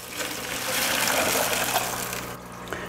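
Tap water pours and splashes steadily into a rainbowfish egg hatchery dish mixed with salt, then stops abruptly near the end. The sound is close and fairly loud, with no talking.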